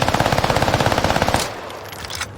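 Assault rifle firing on full auto in Call of Duty Warzone on the Caldera map, a loud rapid burst of evenly spaced shots for about a second and a half, then a fading echo and quieter game ambience.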